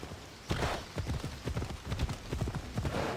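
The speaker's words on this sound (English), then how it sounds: "This will be faster on horseback." Horse hooves in the video game Assassin's Creed Odyssey, a quick, rhythmic clip-clop of galloping close by, steady over a soft background.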